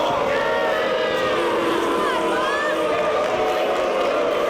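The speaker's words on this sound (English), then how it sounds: "Crowd really getting on Aries here." A wrestling arena crowd jeers at Austin Aries, a continuous loud roar of many voices with whistles and rising shouts, with a commentator talking over it.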